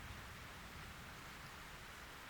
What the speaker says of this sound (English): It's raining again.